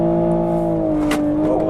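A 2020 Toyota Supra engine running at steady revs as the driver eases off the throttle, the tone dropping slightly, with a brief high whoosh partway through.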